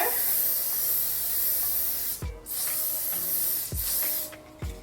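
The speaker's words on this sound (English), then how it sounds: "I'm going in with my BioSilk Shine On Spray. I'm just gonna spray that all over." A long steady aerosol spray of BioSilk Shine On hair shine spray hisses close by, broken by a few brief pauses and soft clicks of the nozzle.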